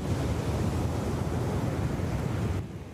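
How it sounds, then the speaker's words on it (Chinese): During Typhoon Kong-rey, heavy sea waves pound the shore at Lover's Bay in Yilan, a dense, continuous roar of surf mixed with buffeting wind noise that eases slightly near the end. "海洋一直拍起伫岸顶"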